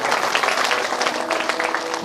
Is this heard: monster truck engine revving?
no